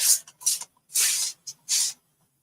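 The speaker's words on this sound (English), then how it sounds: "I am going to spray it." Spray bottle squirted in four quick hissing bursts, the last two longer, close and fairly loud with brief gaps of quiet between them in a studio setting.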